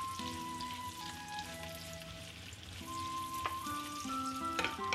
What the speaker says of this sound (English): We'll saute the onion until brown and the garlic also.